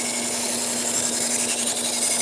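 A knife blade is sharpened on a powered grinder, a steady abrasive hiss over a constant motor hum, close and continuous with no voices.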